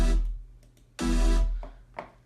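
Dry supersaw synth chords with every effect switched off, played as a loud sustained stab, a fade, then a second long chord followed by two short quieter hits, alone with no talking.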